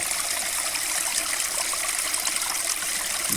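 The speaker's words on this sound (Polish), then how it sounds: "Po prostu nieprzerwanie woda sobie w tym strumieniu płynie" Water flows continuously in a stream, a steady bright rushing and trickling that holds at an even level from start to finish with no voices.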